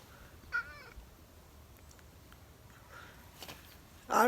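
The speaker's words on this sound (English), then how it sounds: "He always meows like crazy, either when I'm feeling sick or before or after earthquakes." A pet cat meows loudly at close range right after a New Year's earthquake in California, with a faint earlier call and a sharp, strong meow at the end against quiet room background.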